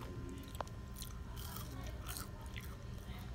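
French fries from a Captain D's seafood meal are bitten and chewed up close, a brief crunch followed by steady soft mastication sounds, with no talking.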